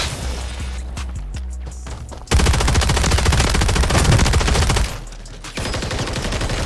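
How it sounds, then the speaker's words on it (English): Automatic gunfire during a Resurgence match in a first-person shooter, a quieter patch of scattered shots then a loud sustained burst of rapid fire lasting a few seconds, followed by further shooting. "they're shooting at us"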